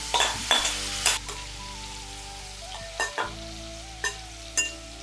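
Pineapple pieces fry in butter in a pan, giving a steady close sizzle. Spatula stirs and scrapes break in every second or so, over a low background hum.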